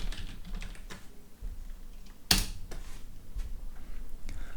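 Scattered keystrokes on a computer keyboard, typing a command into a terminal, with one sharp louder key press near the middle and softer taps around it, close and alone without talk.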